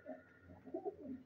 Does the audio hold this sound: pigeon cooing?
yes